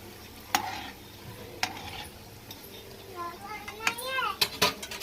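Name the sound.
fish frying in a pan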